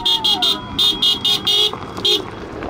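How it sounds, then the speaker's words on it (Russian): Rapid rhythmic car horn honks in repeated bursts greet the first cars arriving on a newly opened mountain road in Dagestan, loud and close over traffic and background voices. "А первые машины жители встречают прямо у въезда."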